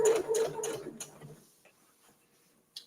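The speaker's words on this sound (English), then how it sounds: "we're going to go just edge stitching, just about 1/8 of an inch." A sewing machine edge stitching about 1/8 inch along a fabric gift bag without back stitching, running in a quick rhythmic burst for about a second and a half, then stopping into near quiet with a faint click at the end.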